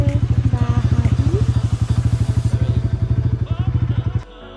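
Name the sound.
motorbike ridden by child and father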